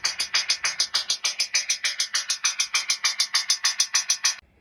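Hi-hat samples loop in a rapid, steady stream of bright ticks at half-beat intervals, roughly five per second, playing alone at even loudness before stopping abruptly.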